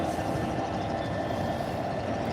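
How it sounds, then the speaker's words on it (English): A Class 66 diesel locomotive idles while waiting at a signal, a steady, dense, rumbling drone that holds constant without change, fairly close and moderately loud. "we have obviously the diesel from this engine, which you can hear loud and clearly"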